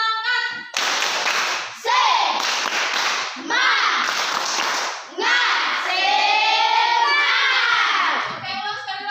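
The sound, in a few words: class doing a rhythmic spirit clap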